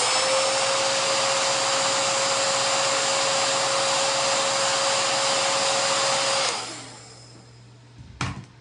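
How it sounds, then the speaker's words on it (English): A hairdryer blows steadily at close range for over six seconds, used to set and curl eyelashes, then cuts off, leaving quiet room tone and a brief clunk. "I use a hairdryer almost every day for my lashes."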